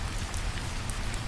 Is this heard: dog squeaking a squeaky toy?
no